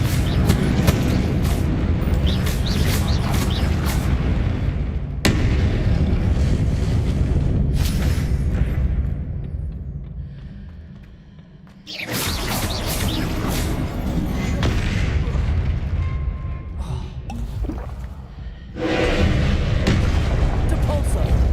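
Confringo spell explosions in Hogwarts Legacy boom repeatedly in loud, dense bursts of rumbling blast noise, separated by a brief quieter lull, with spellcasting voices and game sound mixed in.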